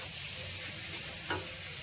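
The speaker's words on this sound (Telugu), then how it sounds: "ఇప్పుడు మళ్ళీ ఒక 5 టు 10 మినిట్స్ మళ్ళీ ఫ్రై చేసుకోండి" Egg curry masala frying in a pan, a soft continuous sizzle with a brief stirring scrape partway through, close and steady, no voices.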